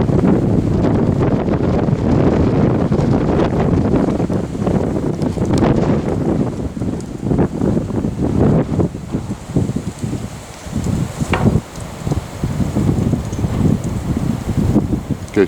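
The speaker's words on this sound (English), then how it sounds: "In case you're wondering if the wind's blowing." Strong gusts of wind buffet the microphone outdoors near water, a loud, rumbling roar that surges and dips throughout, with faint rustling underneath.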